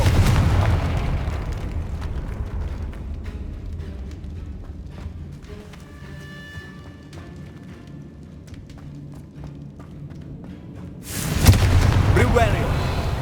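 A Confringo fire spell blasts in Hogwarts Legacy, a single loud, sudden explosive burst near the end that follows a stretch of low rumbling game ambience with faint voices.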